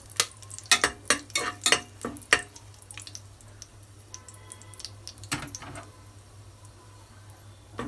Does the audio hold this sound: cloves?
yes